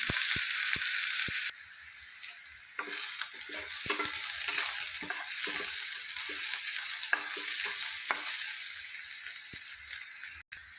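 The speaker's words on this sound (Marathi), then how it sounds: "आता बारीक चिरलेलं लसूण सोबत कांदे. छान परतून घेऊ." Finely chopped garlic and onions sautéing in a pan: a steady close sizzle runs throughout, with a few sharp clinks at the start and scattered scrapes and taps of a spoon stirring through it.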